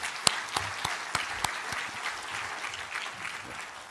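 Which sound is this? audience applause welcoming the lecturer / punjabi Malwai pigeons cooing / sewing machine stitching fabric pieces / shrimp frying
audience applause welcoming the lecturer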